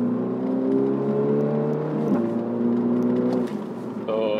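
A Mini Cooper F56 engine revs up as the car accelerates, a close, steady whirring drone whose pitch climbs, dips briefly, and then rises again.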